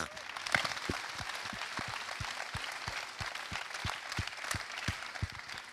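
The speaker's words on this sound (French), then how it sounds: "je pense que vous pouvez l'applaudir" At a sports evening, an audience applauds a track cyclist who rides keirin and the kilometre, with sharp, distinct claps from a smaller crowd, several hands standing out close by in an uneven rhythm.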